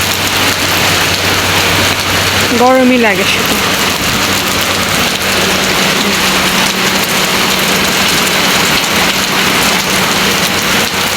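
Steady heavy rain pours down outdoors in hot weather, a loud close continuous hiss on surfaces, with a brief rising and falling whine and a voice speaking briefly over it.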